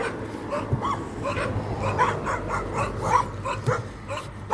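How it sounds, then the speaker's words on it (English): Several dogs loose outside near a little free library bark and yip in a scattered rhythm at moderate distance, with whimpering notes between the barks and light background noise, no speech. "Oh, someone's dog is out."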